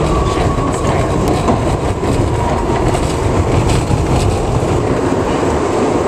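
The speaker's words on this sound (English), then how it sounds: "Stillwell Avenue bound D local train." A New York subway D local train runs at speed with a steady loud roar, rattling wheels and faint squeals, heard from inside the car with no one talking.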